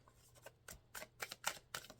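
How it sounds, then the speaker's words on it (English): Tarot cards are shuffled in a series of quick, crisp riffling bursts, about six short rustling flicks spaced irregularly over two seconds, close and fairly quiet with a faint steady hum beneath and no talking. "And a shuffle."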